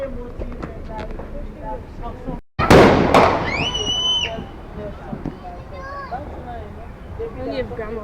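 Fourth of July fireworks at a backyard show: a sharp, loud burst followed by crackling and whistling trails, with people chatting nearby before and after.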